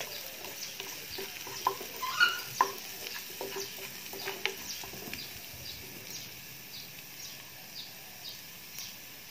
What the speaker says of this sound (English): stir well until the garlic and the ginger